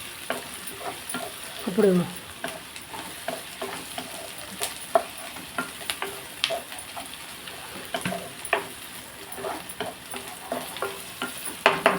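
Chicken pieces fry with onions in an oiled pan, giving a close, continuous sizzle punctuated by sharp spatula taps and scrapes; a voice briefly speaks at the start.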